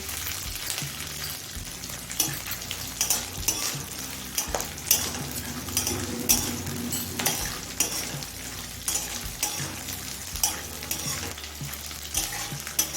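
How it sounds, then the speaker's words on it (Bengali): Black cumin frying with garlic and green chili makes a constant soft sizzle, while a spatula scrapes and taps against the pan at irregular intervals. No one speaks. "রসুন কাঁচা লঙ্কা দিয়ে আমি মিনিট দিয়ে ভেজে নিয়ে এবার দু চামচ পরিমাণ দিচ্ছি কালো জিরে"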